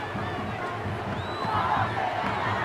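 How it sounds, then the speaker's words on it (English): A crowd in a cricket video game cheers and roars steadily, with a broad wash of noise that swells slightly partway through. "It's evident and ever so audible that the crowd is at near bursting point at today's play."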